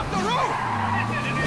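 A car drives through city streets in the video game Spider-Man: Miles Morales, a steady engine drone with tyre noise and rising engine tones, heard continuously under excited game dialogue.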